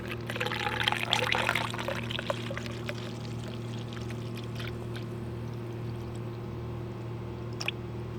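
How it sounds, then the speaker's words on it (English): Antifreeze poured into a Toyota Prius radiator while bleeding the cooling system, a soft splashing pour strongest in the first couple of seconds, then a faint trickle over a steady low engine-bay hum. "And then again, I'm filling up more antifreeze."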